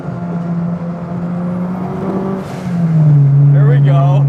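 Turbocharged, street-legal Honda Civic hatchback engine droning at steady high revs while being driven hard, then climbing louder, with someone talking over it.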